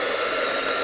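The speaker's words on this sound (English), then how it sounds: "I've got my sort of hair dryer, which is basically a hot air gun." A hot air gun, sounding much like a hair dryer, blows steadily while shrinking heat shrink tubing on soldered wire; a constant, even whoosh of moderate loudness with no talk.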